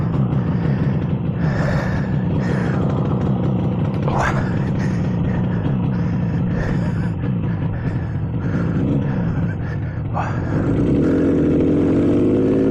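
A 1967 Yamaha YR1 motorcycle engine runs with a rough, close rumble, holding a fairly steady idle with a few brief sharper bursts and a rise in revs near the end, no talk over it.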